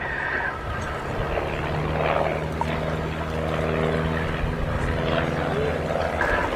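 A pair of de Havilland Chipmunk T.10 propeller trainers fly a crossover display at an airshow, their engines droning steadily at moderate distance with a rising and falling tone, while commentators talk over the sound.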